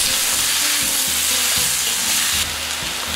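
Beef sautéing in sauce with water on a hot plate, a loud continuous sizzle with rhythmic scraping strokes of stirring, close and alone.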